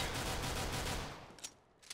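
Gunfire in Counter-Strike: Global Offensive, a dense continuous burst of rapid shots that fades out, followed by two short, sharp reports.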